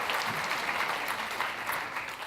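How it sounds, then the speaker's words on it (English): An audience at the Silver Apples honors event applauds steadily, a dense even wash of clapping throughout with no clear voices on top. "Give them a round of applause, please."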